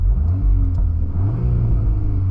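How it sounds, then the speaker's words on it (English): A 2023 VW MK8 Golf R on its stock valved exhaust, sound actuator off, revs loudly up close in a steady deep rumble that swells and settles across the short burst, with no talking. "So this is just exhaust only."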